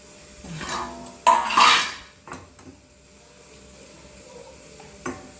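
Cashews dropped into a pan of frying onions, with a sharp clatter of metal and stirring around the pan, a brief louder scrape and sizzle mid-way, then quieter background and a final utensil knock.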